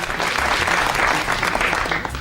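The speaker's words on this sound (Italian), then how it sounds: "Questo è un applauso rivolto anche alla tifoseria giallorossa" Loud crowd applause rings out for the Roma supporters during the 1982–83 Serie A title season. It is a thick, sustained burst of many clapping hands, heard up close and continuous.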